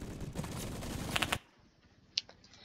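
A rapid automatic burst from an STG-44 rifle in the Roblox shooter Phantom Forces rattles out for over a second, then cuts to near silence broken by a single faint click.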